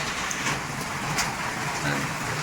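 Rain falling over a village, a steady broadband hiss of drops with a few brighter spatters, continuous and fairly close, with no voices.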